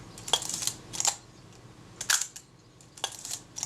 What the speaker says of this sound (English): The Film Advance releases correctly every time.